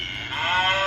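A recorded cow moo from a button on a Carle farm sound book rings out once, a drawn-out bellowing call that swells louder toward its end, close and clear with no talking.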